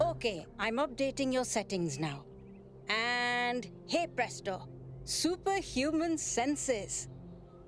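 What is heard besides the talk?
No everyday noise stands out behind the speech.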